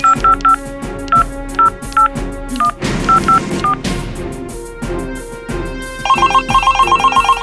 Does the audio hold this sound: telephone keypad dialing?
yes